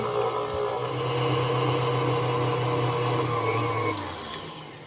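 Electric hand mixer whirring steadily through banana cheesecake bread batter with flour, a loud continuous motor drone that holds its pitch and then winds down near the end.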